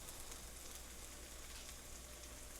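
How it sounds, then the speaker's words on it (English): Steady, dense crackling sizzle of a pan pizza fresh from the broiler, close and continuous with no pauses. "Look at that sizzle."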